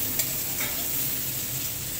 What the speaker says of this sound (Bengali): ওই তেলেই আমি তরকারির পটলগুলো দিয়ে দিচ্ছি